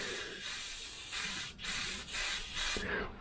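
A Harder & Steenbeck Ultra airbrush spraying paint at 25 psi onto a base coat, a close, steady airy hiss coming in several short bursts with brief dips between them.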